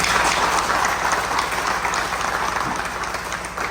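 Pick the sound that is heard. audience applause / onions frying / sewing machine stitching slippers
audience applause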